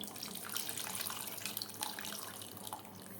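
Tamarind water pours steadily in a soft, continuous splashing stream, fairly quiet and close, with no voices.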